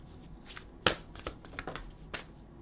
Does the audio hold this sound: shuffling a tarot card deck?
yes